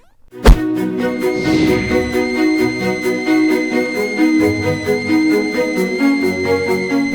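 A kue putu steamer gives off a steam whistle: after one sharp knock, a loud, steady, shrill tone rich in overtones sounds continuously close by.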